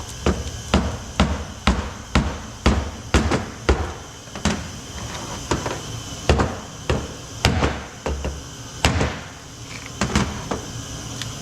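Repeated hammer taps on a stuck cylinder liner in a Detroit Diesel 2-53 engine block, a steady series of sharp metallic knocks about once or twice per second, close and loud with no talking.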